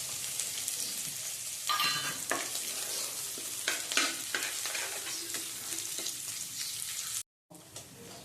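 Asafoetida and grated ginger sizzle in hot oil for a tempering, a dense steady crackle with stirring scrapes and a brief silent gap near the end.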